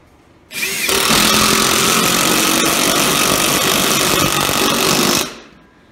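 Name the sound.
power drill drilling treated lumber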